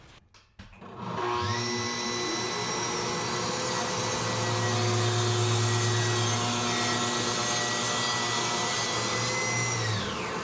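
A Festool CT 15 dust extractor clicks on and spins up to a loud, steady whine that holds evenly, then starts to wind down near the end.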